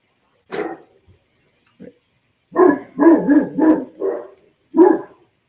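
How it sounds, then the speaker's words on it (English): Outdoor dogs bark in an irregular series of loud, clear woofs. A single bark comes first, then a rapid cluster of five barks, and a final bark follows after a short gap. "the dogs are barking"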